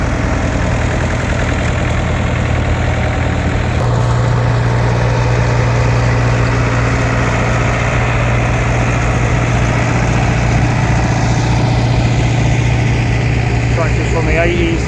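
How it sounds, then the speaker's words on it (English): A Hungarian Zekta tractor idling at a tractor show, a loud steady mid-pitched engine drone that shifts slightly in tone partway through, heavy and continuous with crowd noise underneath. "Zekta, Hungarian tractor."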